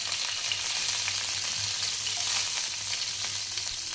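Green chillies sizzle in hot ghee in a home kitchen pan, a steady close crackling hiss with no talking.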